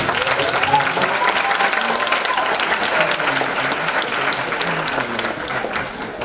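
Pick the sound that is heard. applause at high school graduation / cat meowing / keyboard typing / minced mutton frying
applause at high school graduation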